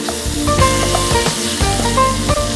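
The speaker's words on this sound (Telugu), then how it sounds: "సో ఈ రెండు కూడా మనకి బాగా ఫ్రై అవ్వాలి." Chopped tomatoes fry in a hot pan on a breakfast cooking show, a steady loud sizzle with intermittent stirring scrapes and clinks, no talking.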